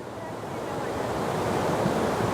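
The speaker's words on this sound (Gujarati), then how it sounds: "પથરાવાળી નદી છે એટલે અવાજ આવે" Rocky Baspa river rushing with a strong current, a steady, loud broadband roar of churning water that swells slightly and continues without pause.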